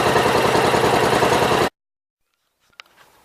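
An Onan NB 430 engine on a Gravely tractor runs loud and steady with a rough, pulsing rumble for under two seconds, then cuts off abruptly, leaving silence and a faint brief clatter.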